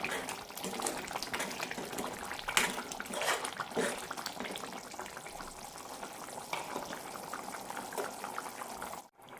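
Soya keema gravy, made with meal maker, simmers under a lid in a pot, giving a soft, steady bubbling and hiss with faint pops that carry on evenly throughout.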